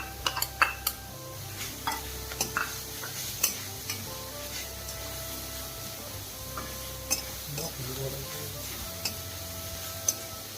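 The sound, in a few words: vegetables with carrot stir-frying on high flame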